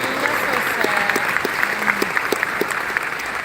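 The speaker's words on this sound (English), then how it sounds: "You should give yourself a round of applause" Applause from a forum audience fills the room, a dense steady patter of many hands with a few sharper claps standing out, loud and continuous, with faint voices underneath.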